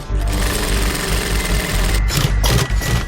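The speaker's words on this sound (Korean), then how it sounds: "몸무게에 눌리고 당겨져도 솔기가 터지지 않도록 재봉틀로 단단히 바느질을 합니다" A twin-needle industrial sewing machine stitching fire-resistant car seat cover fabric runs in a loud, steady mechanical whir with a fast, even needle rhythm, close up and without talk.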